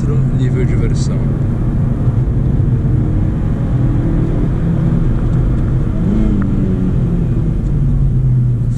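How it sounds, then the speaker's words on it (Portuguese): A 2011 Honda Civic LXL 1.8 with a manual gearbox accelerates on a highway, its engine rumbling loud and steady from inside the cabin under road and wind noise, with someone talking over it. "Vamos dar uma aceleradinha na estrada aqui, pessoal."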